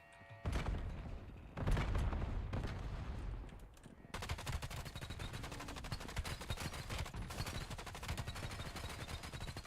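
Video-game gunfire during a live stream, with loud bursts of shots followed by steady rapid automatic fire that runs continuously without a break.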